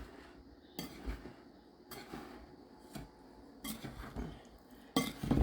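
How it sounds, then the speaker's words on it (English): Pineapple casserole mixture with a cup of sugar being stirred in a bowl: a few clinks and scrapes of a spoon against the dish, spaced out at an uneven rhythm, fairly quiet and close. "Okay, I'm gonna stir all this together."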